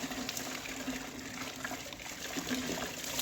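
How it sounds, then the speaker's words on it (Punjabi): A suit is rinsed by hand in clean water in a tub at home, with continuous trickling and sloshing water and soft splashes, close and moderately quiet, with no talk. "ਤੁਸੀਂ ਚਾਹਣਾ ਚਾਹੋ ਤੇ ਇਹਨੂੰ ਸਾਫ਼ ਪਾਣੀ ਚੋਂ ਕੱਢ ਸਕਦੇ ਹੋ"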